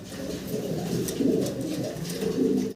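A pair of large red Lahore pigeons cooing steadily in low, throaty, overlapping rolls that swell and fade, close and continuous with no talk.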